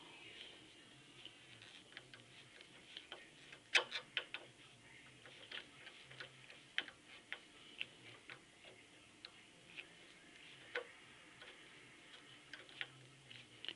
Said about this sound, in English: Takes a little bit of pressure to get that screw in there good and tight